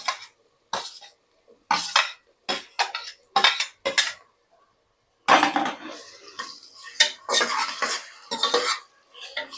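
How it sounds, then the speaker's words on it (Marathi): Onions being sautéed in a pan for a pressure-cooker mushroom masala, heard as repeated bursts of spoon scraping and clinking against the pan with short pauses between strokes, close and fairly loud with no talk. "5-7 मिनिटं असं परतून घ्यायचं."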